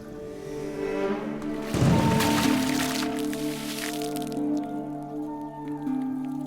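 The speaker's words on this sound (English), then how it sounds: "A well-aimed bucket of water brings the bewildered little victim to his senses" A loud splash of water from a thrown bucket hits a monkey suddenly, followed by dripping and trickling over a steady background hum.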